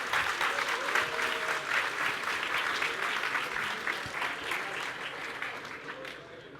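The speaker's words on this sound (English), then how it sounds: "round of applause to André" A conference audience at a tech career event applauds an award winner called to the stage, brisk, full clapping that gradually softens and fades toward the close.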